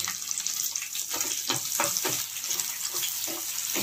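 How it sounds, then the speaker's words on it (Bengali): Finely chopped onion lightly frying in a pan, a close, steady hiss with soft stirring scrapes recurring every half second or so. "সেই পেঁয়াজটাকে আমি কুচি কুচি করে রেখেছি, এটাকে আমি একটু হালকা করে ভেজে নেব"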